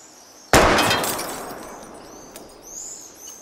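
In the game Life is Strange, a gunshot strikes a wheel rim as a single sharp, loud crack with a metallic, glassy burst that fades over about a second, followed by faint birdsong outdoors.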